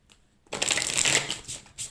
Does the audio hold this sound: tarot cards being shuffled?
yes